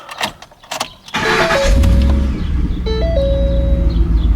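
A Ford F-150 4.6 engine cranks briefly after repair, then catches and settles into a steady, close idle rumble with a faint whine above it.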